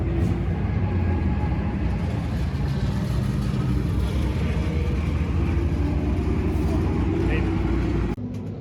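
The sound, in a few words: SK race car driving laps at Stafford racing track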